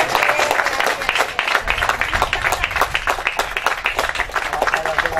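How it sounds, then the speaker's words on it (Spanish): At a restaurant's grand opening, an audience gives loud, close applause with distinct individual claps, a brief dip partway through, and voices mixed in with the clapping. "Vamos a darle un fuerte aplauso a ellos."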